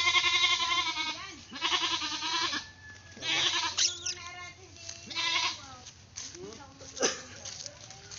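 A pet goat bleats loudly and close by in a series of wavering, drawn-out calls with short pauses between them.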